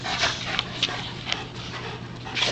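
Joey, a playful dog at a socialization training session, whimpers and pants close by in quick, irregular bursts of breathy squeaks.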